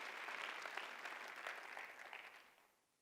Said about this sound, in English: So a big round of applause to yourselves.